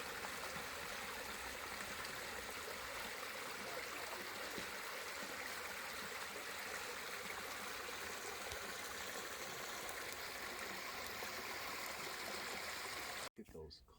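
A stream runs steadily beside a desert hiking trail near petroglyphs in Arizona's Superstition Mountains, a constant rushing and trickling wash that holds even for about thirteen seconds before cutting off abruptly.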